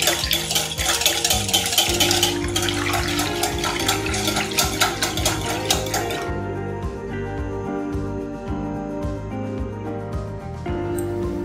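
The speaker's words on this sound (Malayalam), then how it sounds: "ബീറ്റ് ചെയ്യാം നമുക്ക് ഇനി" Pancake batter of flour and lukewarm milk is beaten briskly in a bowl, a rapid wet clattering whisk rhythm against the bowl that then softens into slower, quieter stirring with occasional light clinks.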